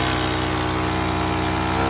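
A Stihl FS91R string trimmer engine runs at high idle with the choke on, a loud, steady, close buzzing drone with an even pulse and no breaks.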